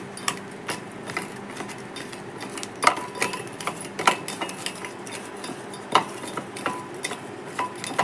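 Beef being mixed with turmeric, coriander and garam masala in a bowl outdoors in a forest, with steady scraping and stirring plus sharp clinks of utensil against the dish, no talking.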